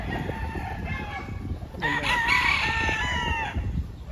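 White Kelso gamefowl rooster at a gamefarm in Lipa, Batangas, crowing once loudly and up close, its strained, wavering call filling the second half over a background of other farm birds and noise.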